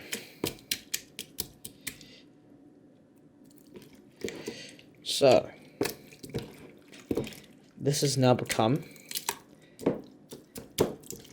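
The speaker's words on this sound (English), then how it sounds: "This is splashing everywhere. It's gonna make a big mess" Wet paper sludge splashing and slapping inside a Ziploc container as paper is being processed, a series of sharp wet clicks and drips punctuated by a person talking nearby.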